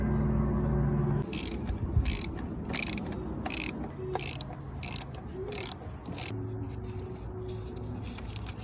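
A ratcheting tool tightens T30 screws on a Fiat Abarth during an E85 conversion, giving a quick rhythmic series of sharp ratchet clicks close by, with a few soft mechanical knocks.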